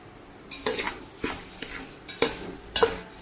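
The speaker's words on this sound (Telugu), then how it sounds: "ఈ నూక నల్లగా అవ్వకుండా ఎర్రగా బాగా వేగించుకోవాలి" Broken rice grits being stirred and roasted in a pan for Ukkirai prasadam, a spoon scraping the metal in a few distinct strokes with a soft sizzle underneath, close and fairly clear with no talking.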